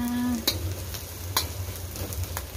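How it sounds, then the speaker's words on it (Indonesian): Shallots and dried shrimp sizzle steadily in a frying pan, with a few sharp spatula scrapes and stirring knocks against the pan, close and alone without talk. "setelah harum jadi goreng dulu nih sama bawang merahnya"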